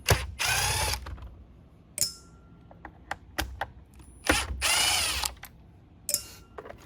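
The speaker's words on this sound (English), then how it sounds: "So we're just going to take all of these screws out." An impact driver removes security Torx screws from a Shark Zero M power nozzle brush head, with several loud buzzing bursts of ratcheting hammering alternating with clicks and brief handling noises, close and alone.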